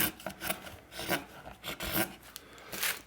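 Gouge rough carving an archtop guitar plate in wood, a close series of rasping, scraping strokes in uneven rhythm, loud and alone.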